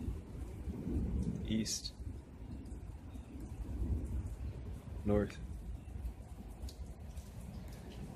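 A thunderstorm rolls over a backyard on a summer evening, low rumbling thunder over a constant wash of rain, with someone talking throughout.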